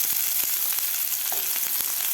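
Onion fries in a pan with green chillies for a kurdai bhaji, giving a constant bright sizzle and crackle with occasional small pops and stirring ticks, and no voices.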